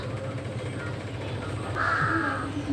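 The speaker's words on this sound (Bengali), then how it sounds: "কাকটা অতিরিক্ত ঢং করছে" A crow near food set out on the ground caws once clearly at mid-distance, a single harsh drawn-out call over a steady low background hum.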